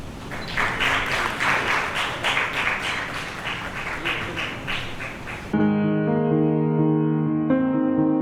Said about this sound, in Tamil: கைத்தட்டுங்கள்.